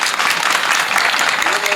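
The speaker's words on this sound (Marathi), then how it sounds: "तुम्ही बघितलं का टाळ्या कुठं वाजल्या?" Audience applause at a Marathi devotional kirtan talk, a steady dense patter of many hands clapping throughout, fairly loud and continuous with no speech over it.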